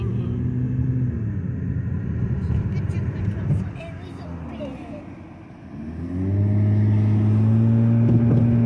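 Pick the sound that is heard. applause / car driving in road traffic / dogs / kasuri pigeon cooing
car driving in road traffic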